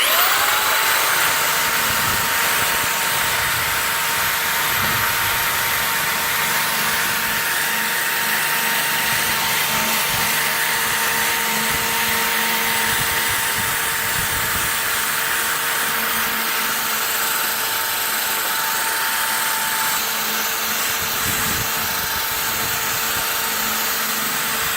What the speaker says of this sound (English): all I'm basically doing is just giving it a quick once over with the brush